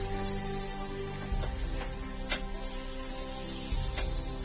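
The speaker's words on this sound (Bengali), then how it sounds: "দুদিক ভালোভাবে লাল লাল করে ভেজে নেব" Rui fish head sizzling in hot oil in a pan, with a steady close frying hiss, low crackle and a few soft clatters as the pieces are turned.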